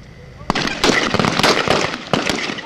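Weapons fire at an Army training range at Fort Leonard Wood, sharp cracking shots and a burst of rapid reports, loud and close, with people talking over the gunfire.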